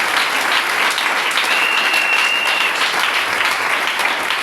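A church congregation claps together in sustained, dense applause, loud and continuous throughout with no pause.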